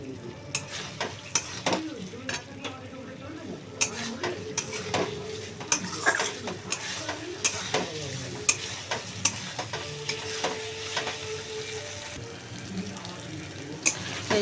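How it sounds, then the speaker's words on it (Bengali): A curry sautéed in hot oil and stirred steadily, with continuous sizzling and frying, repeated scrapes and clinks of a utensil against the pan, and a faint voice in the background. "ভালো করে কষিয়ে নেব।"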